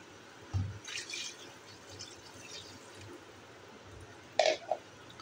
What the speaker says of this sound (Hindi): अब इसमें 1 गिलास के लगभग पानी डालूंगी।